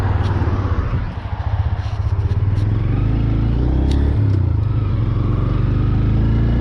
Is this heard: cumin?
no